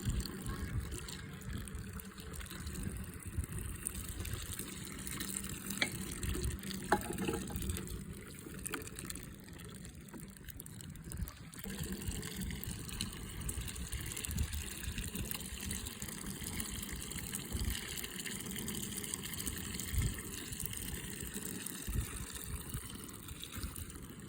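Sugar beet juice poured through a sieve during molasses making, a continuous gushing trickle of liquid close by with small splashes and knocks, running steadily for a long stretch.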